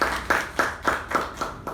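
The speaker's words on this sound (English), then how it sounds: "big round of applause to the president." A few people clapping at a small Toastmasters club meeting, distinct separate claps in a slow, even rhythm, about seven in quick succession, close and clear with no talk.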